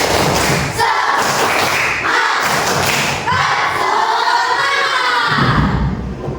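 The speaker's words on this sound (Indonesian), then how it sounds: "Tepuk semangat!" A group of primary school children chanting loudly in rhythm with bursts of clapping and thumps in a classroom, energetic and close, filling the whole stretch.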